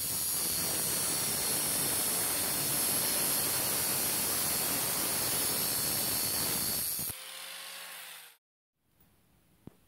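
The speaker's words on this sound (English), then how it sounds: "let's cut the draw knife out using an angle grinder" Angle grinder cutting O1 tool steel for a draw knife, a loud continuous high-pitched grinding hiss that holds steady, then stops abruptly as the disc winds down into near silence.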